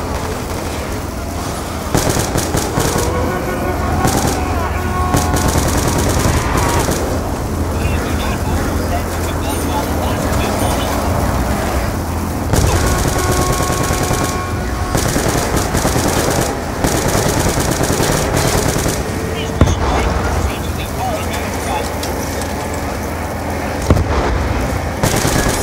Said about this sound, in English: Why did I fire off all my bullets?